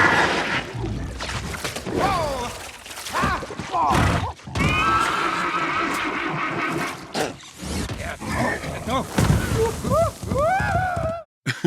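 A horse neighs and whinnies repeatedly in a tense film scene, its rising and falling cries loud and close amid thuds, rumbles and scattered dramatic effects.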